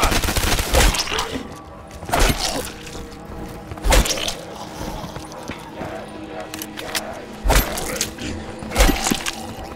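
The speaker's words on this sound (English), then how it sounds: "Shoot him up!" Bursts of gunfire from Call of Duty Black Ops 3 Zombies on the Kino Der Toten map, with sharp, loud volleys recurring every couple of seconds over a busy game soundscape and background voices.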